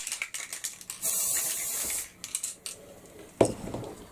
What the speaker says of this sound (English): I'm just going to give this a quick spray